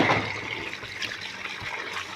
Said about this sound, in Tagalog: Hugasan muna natin.